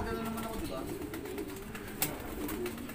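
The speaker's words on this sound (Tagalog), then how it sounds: "Ito po yung ibon, oh." A pigeon or dove coos in soft, low, repeated calls over steady outdoor background noise, with a faint voice in the mix.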